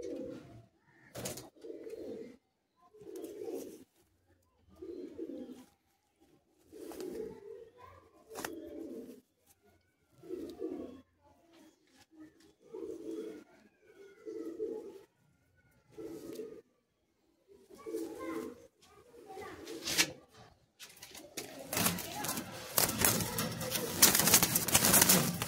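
A pair of Madras flying pigeons, birds used to flying free rather than living caged, coo in repeated low throaty bursts close by, ending in a louder rush of fluttering and scuffling.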